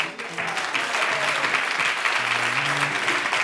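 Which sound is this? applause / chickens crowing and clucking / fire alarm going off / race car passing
applause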